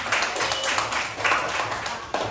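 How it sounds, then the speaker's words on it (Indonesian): Classroom applause for a student's answer during a lesson, a steady wash of many hands clapping at moderate level with voices mixed in underneath throughout. "tepuk tangan untuk dia jawaban"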